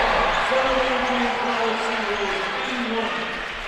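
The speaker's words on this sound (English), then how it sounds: "And listen to this crowd appreciate him" Home crowd at a Southern Maine Community College men's basketball game cheering and applauding a player after an 81-73 regular-season win over Central Maine, a loud, steady roar of broadband crowd noise with voices mixed in throughout.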